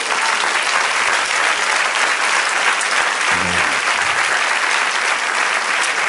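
A church congregation applauds at a Spanish-language service, a thick, sustained wash of many hands clapping at once, loud and even from start to finish, with a brief low voice murmur partway through.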